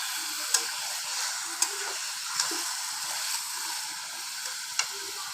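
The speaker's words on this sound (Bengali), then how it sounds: "এটাকে আমি এখন এর সাথে একটু, খুব বেশি সময় না, অল্প সময় একটু ভালোভাবে ভেজে নেব।" Pieces of quail meat fry in hot oil in a pan, giving a steady soft sizzle with occasional sharp ticks and pops, close and moderately quiet, with no talking.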